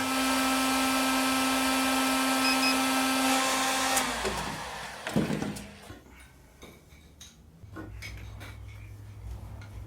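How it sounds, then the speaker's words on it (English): A heat gun warms seized braided brake lines at the calipers, its steady fan whine holding for about four seconds before cutting off, followed by scattered clatter and a low hum. "I hear the heat gun is out because I can't get the braided lines off the calipers"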